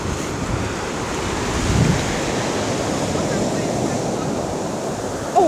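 Ocean surf rolls onto a beach with a steady rushing wash of waves and gusty wind buffeting the microphone, a brief swell in the middle and a sharper burst at the end.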